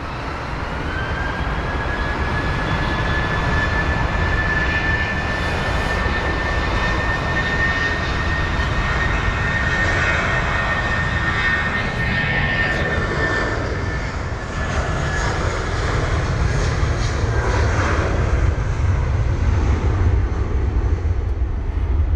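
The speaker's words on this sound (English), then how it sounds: "A320-200/CEO from, or at least heading to Nice, flight number BA346" A British Airways Airbus A320-200, flight BA346, departs London Heathrow with a sustained loud jet roar and rising whine that swells as it passes, heavy rumble continuing throughout.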